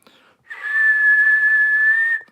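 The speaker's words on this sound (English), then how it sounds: "Just whistling at my cat. You whistle at him, he comes by." A person whistles to call a cat: one sustained, steady high whistle held for nearly two seconds, clear and close with no talking.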